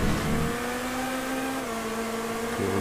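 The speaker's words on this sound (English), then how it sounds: "Shut up, Tom, it's a tank engine." A steady tank engine drone with a sustained mid-range tone, shifting pitch slightly, idling and revving during a race in GTA V.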